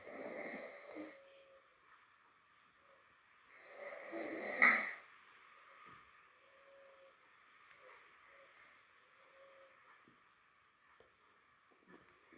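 A person sleeping with a cold snores loudly, with rough wheezing breaths rising and falling in slow cycles, one especially loud snort-like peak midway, then quieter breathing.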